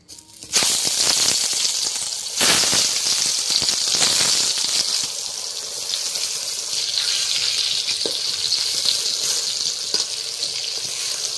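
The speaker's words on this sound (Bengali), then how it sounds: "তো এবার বেগুনটা আমি ভেজে নেব।" Eggplant slices rubbed with salt and turmeric hit hot oil with a sudden loud hiss, then settle into a dense, steady sizzle that carries on close up, with a few soft clinks.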